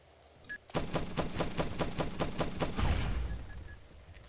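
Automatic turret gunfire from the video game The Last Stand: Aftermath fires a rapid burst of about a dozen evenly spaced shots, loud and close, trailing into a rumbling blast, with a few brief electronic beeps.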